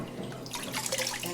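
Eggs being washed in a sink, with running tap water splashing and trickling steadily, moderately close and without talk.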